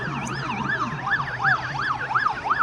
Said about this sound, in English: Yeah, fire engine trying to come through.